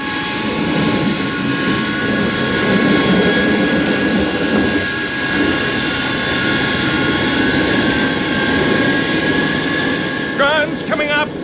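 Jet aircraft engines roar at full boost, a loud, unbroken whine and rumble filling the whole stretch, with a brief warbling sweep near the end.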